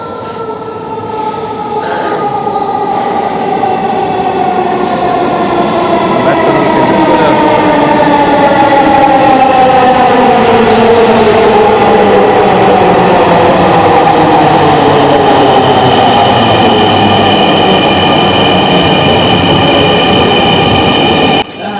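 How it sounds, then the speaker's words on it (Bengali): A Dhaka metro rail train pulls into the station, its steady rumble and long falling wheel whine filling the platform loudly and continuously for about twenty seconds. "অলরেডি ট্রেন চলে আসছে"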